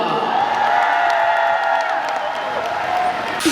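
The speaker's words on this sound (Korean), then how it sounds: "뜨거운 박수 부탁드립니다" A dense festival crowd applauds and cheers at the Taebaek Citizens' Day outdoor concert, a steady wash of clapping and shouts with a hint of a voice and music beneath.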